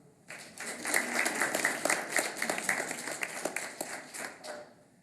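Applause at a school board meeting honoring student athletes, a smaller group clapping briskly for about four seconds at moderate volume before tapering off, with no talk.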